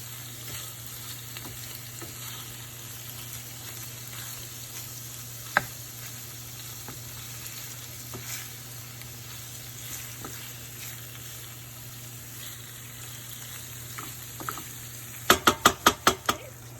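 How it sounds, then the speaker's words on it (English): Shrimp frying in a pan for fajitas, a steady close sizzle with occasional utensil taps, ending in a quick run of sharp knocks against the pan. "And stir them around until they're pink."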